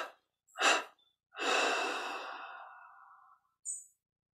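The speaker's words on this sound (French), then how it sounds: "On expire en 3 fois." During a guided meditation, a person exhales in three separate breaths: a short puff, a long, fading sigh, then a brief final breath, soft and close in a quiet room.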